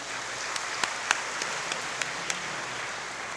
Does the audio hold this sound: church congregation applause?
yes